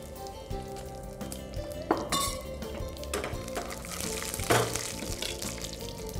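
Dry red chillies and curry leaves crackle and sizzle in hot oil that already holds popped mustard seeds, as the tempering for a fish kulambu. The frying is steady and close, with a few sharp spits and clinks over a soft musical backing.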